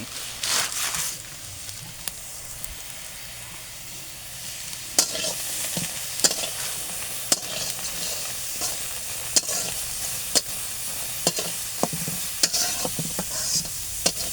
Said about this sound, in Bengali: আমিও একটু হালকা পাতলা নেড়ে চেড়ে দিচ্ছি